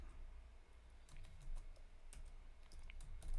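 Quiet typing on a computer keyboard, a few soft scattered keystrokes and short bursts heard close over a low background hum, with no talking.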